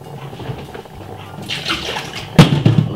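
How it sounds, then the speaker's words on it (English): Water being poured off a pot of boiled potatoes for a spicy cheesy potato bake, a brief splashing pour that swells near the end after quieter kitchen sounds. "I need to take a little bit more of the water outside of it."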